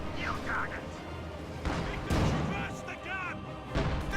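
Mortar and artillery fire in a WWII-style real-time strategy battle with squads and a T-34 tank, heavy thuds and booms layered over continuous battlefield noise, with someone talking over most of it.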